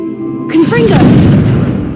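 A Confringo blast spell from Hogwarts Legacy bursts loudly and close, a sudden heavy boom with a crackling, rumbling tail, with game voice sounds briefly overlapping the start.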